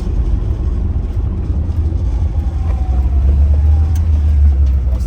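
A 1972 Volvo 144S drives along a road, heard from inside as a steady low engine drone with rumble and road noise that holds at a constant loudness throughout.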